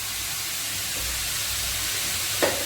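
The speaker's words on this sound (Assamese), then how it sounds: "মই বন্ধাকবিখিনি এবাৰমান এনেদৰে লৰাই দিলোঁ" Cabbage is stirred in a hot frying pan, a steady soft hiss of frying with a faint scrape and a short clink of the utensil near the end, close by, no talk.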